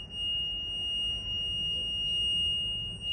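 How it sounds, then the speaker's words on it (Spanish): A washing machine control board buzzer holds a steady high-pitched electronic beep, continuous, piercing and unbroken, over a faint low hum, while the machine shows an error code. "Ese pitido es producido por el buzzer"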